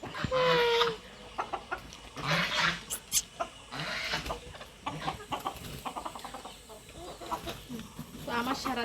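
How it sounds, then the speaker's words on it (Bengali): Chickens cluck repeatedly in a farmyard while hens are let out for the day, irregular near calls mixed with scratching and rustling, with a person talking intermittently over them. "ও দেখো আর একটা মুরগি।"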